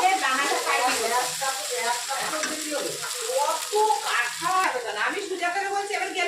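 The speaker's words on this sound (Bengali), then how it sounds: "এখন একটু কালো জিরে ছিটিয়ে দেব।" Nigella seeds hit hot oil in a frying pan over cooked vegetables, giving a steady, close sizzle and crackle that runs throughout under someone talking.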